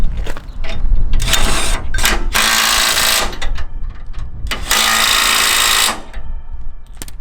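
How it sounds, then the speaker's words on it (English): Power tool bolting a bracket onto a MacDon FD2 series header: short bursts of rattling, buzzing impact driving with two longer sustained runs, loud and close. "we can go ahead and bolt this bracket on"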